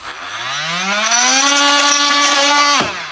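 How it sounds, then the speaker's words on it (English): An oscillating multi-tool's motor spins up with a rising, buzzing whine, holds a loud steady drone for a couple of seconds, then cuts off abruptly. "the way we do that is with this tool, and that's called a multi-tool."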